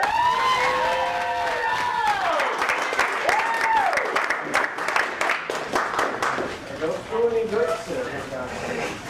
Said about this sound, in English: please give a big round of applause for Grandpa Deering.